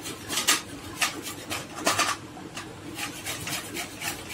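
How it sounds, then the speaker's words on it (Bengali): Green mangoes are grated by hand against a metal grater for kasundi, giving a run of close, rhythmic raspy scraping strokes, roughly two per second, each a short gritty burst with faint kitchen clatter in between. "এই ঘষার মধ্যে আমি সব আমগুলো এইভাবে ঘষে নেব"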